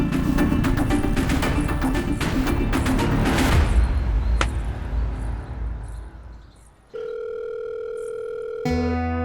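A phone rings and goes unanswered late at night: a loud, busy stretch of noise fades away, then steady electronic ringing tones begin and continue, with a second tone cutting in near the end.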